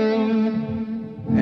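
An electric guitar rings out a sustained chord in a stock position, heavily effected with reverb and echo, fading slightly before a fresh attack at the end.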